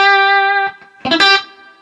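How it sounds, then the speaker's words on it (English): A single sustained electric guitar note rings with effects and a reverb tail. Brief stabbed notes follow, up close and alone. "you really want it to stab out and hear the nice reverb kind of tailing out there"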